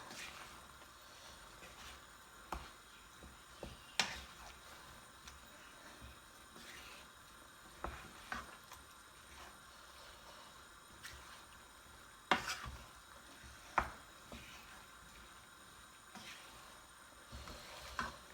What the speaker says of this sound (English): I'm gonna stir all that into together. So it's just gonna mix together.